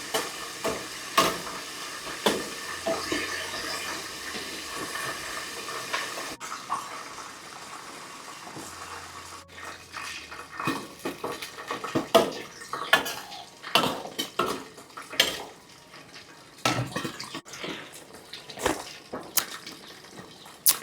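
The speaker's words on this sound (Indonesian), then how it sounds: "Kita masukin ikan patin." Patin fish goes into a pot of sour, spicy broth that is stirred, with repeated clinks and scrapes of utensils against cookware, running water and a faint sizzle throughout.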